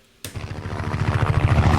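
A helicopter's rhythmic rotor thump, a sound effect for the game Need for Speed: Hot Pursuit, starts abruptly and grows steadily louder over a broad whooshing roar, with no voices.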